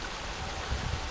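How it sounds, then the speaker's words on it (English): An artificial flowing creek winds through an eco-friendly waterfront development, its water a steady, faint wash with soft low burbles throughout and no one talking. "and a flowing creek"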